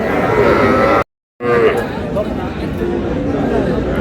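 Cattle, small bulls and heifers, low and bellow at a livestock market in Chandpur, with loud crowd chatter and people talking throughout; a brief dropout cuts the sound near the start.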